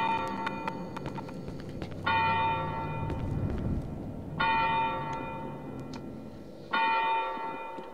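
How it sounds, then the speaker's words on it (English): Church bells in the video game Cry of Fear ring out in three loud, resonant clangs spaced a couple of seconds apart, each tolling note lingering and fading over a low background rumble. "please be quiet, church bells."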